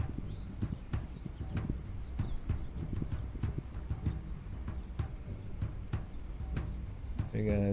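Horse hooves clip-clop at a steady walking pace in a video game, crisp evenly spaced hoofbeats over a faint insect-like chirring background, with a brief burst at the end.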